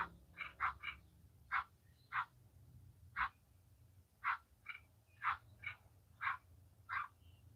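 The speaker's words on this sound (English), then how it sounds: "Is that a frog?" Frog croaking in the background of a live radio broadcast: faint, short, repeated calls come roughly every half second to second, sometimes in quick pairs, over a low hum, with no speech during the calls.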